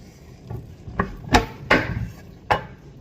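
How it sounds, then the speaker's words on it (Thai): A knife chops a large wild mushroom on a cutting board in a few sharp, uneven strokes, close and distinct with short pauses between each cut. "เราจะมาหั่นดอกใหญ่กันนะคะ"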